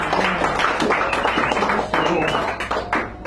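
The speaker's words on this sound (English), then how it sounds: "can y'all clap for her?" Audience at a San Francisco café poetry open mic clapping for a co-host, a short burst of dense hand claps mixed with crowd murmur throughout.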